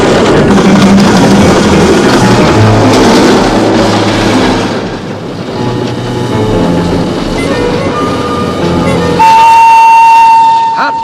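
A radio-drama train sound effect, loud rumbling and clattering rail noise with a steady chugging drone, ending in a sustained whistle or horn tone near the close.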